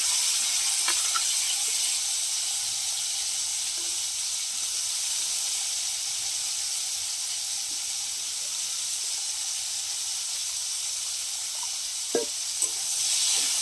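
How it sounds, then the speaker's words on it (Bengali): Bitter gourd and potato slices, coated in salt and turmeric, fry in a wok with a steady, even sizzle and hiss, broken by a few faint pops and clicks. "বৌদি ভাই এই যে ভেজে নিচ্ছে উচ্ছে আলুগুলোকে"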